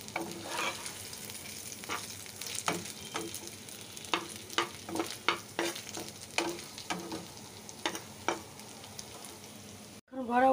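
Lentil and shrimp fritters frying in oil, a constant sizzle under a series of sharp utensil scrapes and taps as the fritters are lifted out, with a louder clatter at the very end.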